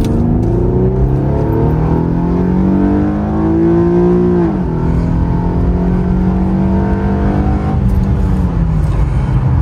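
A 2014 Infiniti Q50 Premium accelerates hard in sport mode, the engine droning loudly from inside the cabin as it climbs toward 7,500 rpm, with smooth rising pitch and brief dips at gear changes.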